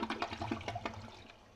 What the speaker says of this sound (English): let's flush it once more and get a close up